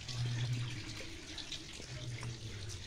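Water flows from a 5,200 liter-per-hour, 40-watt submersible pump into an aquaponics deep water trough inside a greenhouse, a steady faucet-like trickle with a low hum, heard fairly close.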